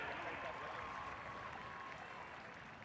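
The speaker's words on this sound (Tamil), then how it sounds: "ஒரு பலத்த கைத்தட்டல் கொடுக்கலாமா இவர்களுக்காக?" A dense crowd applauds in a continuous wash of clapping and cheering, loud and close at first and tapering slightly, at an event on Marina Beach in Chennai featuring Air Force personnel.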